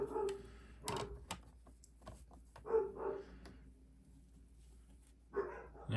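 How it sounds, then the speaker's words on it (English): Dogs bark indoors in a few separate bursts, fairly distant and faint, with quiet pauses between the short volleys. "I apologize for the dogs barking."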